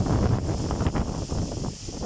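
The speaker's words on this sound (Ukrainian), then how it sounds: "друзі, такий знявся вітер, що я ось сховався" Strong wind beside a wind turbine buffets the microphone with a steady roar and gusty rumble, no voices.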